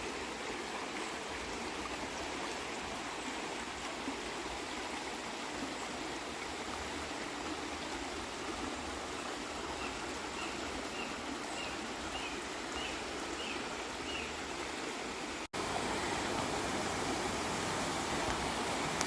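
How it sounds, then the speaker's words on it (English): River rapids at Hillsborough River State Park rush continuously with a broad, even roar of flowing water, a distant outdoor wash with no talk and a slight change in level near the end. "So here are the rapids."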